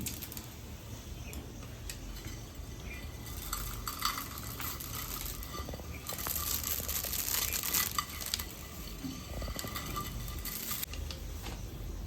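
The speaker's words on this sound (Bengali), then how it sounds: "এই অবস্থায় আমি চাউমিনগুলোকে আস্তে আস্তে ভেঙে ভেঙে দিয়ে দেব।" Dry chow mein noodles are broken by hand into a pot of rapidly boiling water for restaurant-style chicken chow mein, making a close, steady crackle and crunch over continuous bubbling, with no voices.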